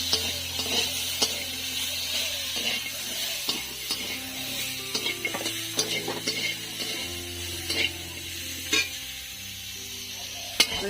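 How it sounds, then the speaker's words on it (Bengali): Drumstick (moringa) pieces fry lightly in oil in a kadai, a steady sizzle broken by repeated clicks and scrapes of stirring, close and fairly loud, with low background hum and no talk. "আমি এবার সজনে ডাঁটাটা ভেজে নেব"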